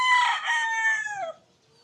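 A single loud, close rooster crow in the Philippines, one long drawn-out call that tails off into quiet.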